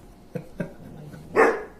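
A dog gives two short low barks followed by a louder, longer bark, close by in a quiet room, no talking over it.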